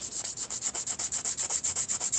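Rhythmic sanding of Hawaiian koa wood knife scales, steady back-and-forth strokes about seven per second, close and fairly loud with no talking.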